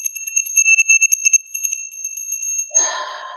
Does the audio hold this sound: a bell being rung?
yes